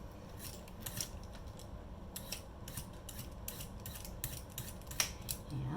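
A knife scrapes and slices the skin off a cucumber on a cutting board, giving a string of short, dry strokes in uneven rhythm, close and fairly quiet, with no talking.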